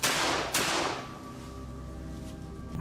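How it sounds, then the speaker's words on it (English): Gunfire during a night hunt for wild boar, two loud sharp reports close together at the start, then a fading echo and steady outdoor background. "Gunshots rang out continuously."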